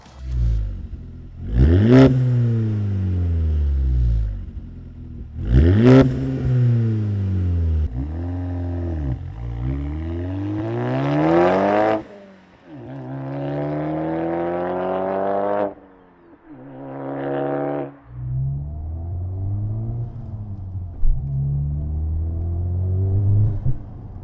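An Audi A4 B8 with stock exhaust revs up and drops back repeatedly, each rev a rising then falling roar, deep and close with a rumbling idle between.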